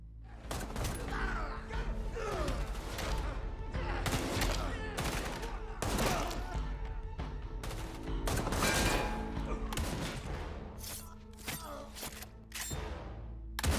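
Movie gunfire as syndicate members are gunned down in a room by an action heroine, dense bursts of rapid shots and impacts over an underlying score, with narration over the top.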